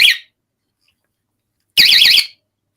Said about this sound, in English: got one of these bait alarms.